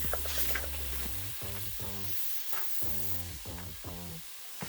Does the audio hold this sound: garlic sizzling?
yes